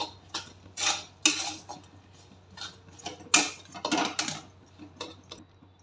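Crushed peanuts being stirred into raw mango chutney in a pan: a spoon scrapes and clatters against the metal in a run of uneven, close, moderately loud bursts, with a steady low hum underneath.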